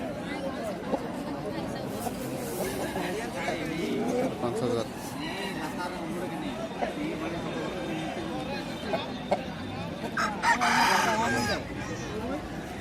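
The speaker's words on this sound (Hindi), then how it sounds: "काफी बड़ा मुर्गा है।" Aseel roosters at a busy poultry market in Odisha, crowing at moderate distance amid a steady hum of crowd chatter and people talking, with a louder burst of crowing and clucking near the end.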